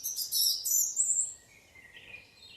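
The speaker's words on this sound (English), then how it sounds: "But listen to the birds." Birds sing outdoors in short, high chirping phrases, fairly faint and distant, with the calls thinning out after the first second or so and no talking.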